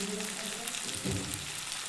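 Ginger and garlic paste with chili powder and turmeric fry in a pan for a fish-egg curry with potato and pointed gourd, giving a soft, steady sizzle with a brief stirring scrape midway.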